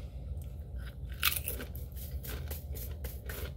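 Lay's Kettle Cooked Extra Honey Habanero potato chips are bitten and chewed right at the microphone, giving a series of sharp, close crunches in an uneven rhythm with no speech.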